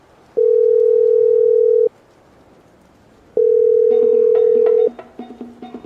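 A telephone ringing: two long, steady electronic ring tones separated by a pause, loud and close, with a tinkling melodic phrase joining the second ring and tapping sounds after it.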